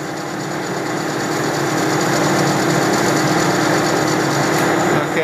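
A metal-cutting machine takes a power-fed cut, a steady loud whine with a mechanical hum and faint knocking that holds evenly throughout, close up with no speech.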